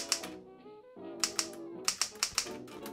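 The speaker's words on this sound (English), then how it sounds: "I hear you typing, Gianni." Sharp keystroke taps in short bursts, close and fairly crisp, with a few clacks standing out among softer clicks while a tonal music bed plays underneath; no one speaks.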